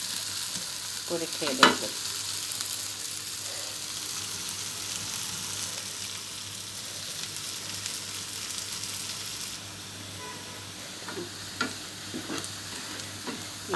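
Onions and chillies frying in a pan for a hilsa fish dish give a soft, steady sizzle with occasional stirring scrapes, and a voice speaks briefly near the start and again toward the end.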